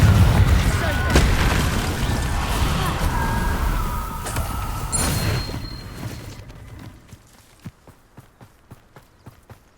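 A Confringo explosion spell is cast in a video game: a loud, booming, broadband blast with rumbling debris that fades over several seconds into a steady run of clip-clopping horse hoofbeats.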